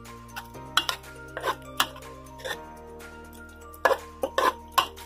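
Chopped bite-sized chicken pieces being mixed in a pan, heard as a series of irregular metallic scrapes and clinks of a utensil against the pan, close and fairly loud, with a low steady hum underneath.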